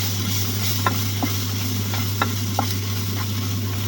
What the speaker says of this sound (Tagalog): Ito na natin ilagay yung ampalaya